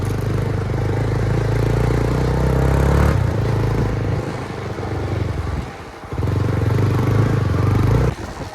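Motorcycle engines running close by during a group ride with dozens of bikes, a steady loud rumble that dips briefly midway before resuming, with no talk.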